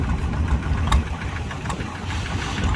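Engines of E-kong farm trucks hauling sand for a temple merit-making event, a steady low rumbling idle with knocking, close and continuous, with a couple of brief sharp clanks over it.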